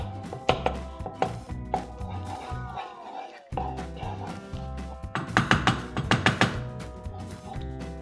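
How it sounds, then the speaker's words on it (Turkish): A spoon mashes tomato paste in hot oil in a kitchen, making repeated close taps and scraping strikes against the pan. A few sizzling, sliding stretches come between the taps, with a brief pause partway through. "bu salçayı biraz ezeceğiz böyle yağda"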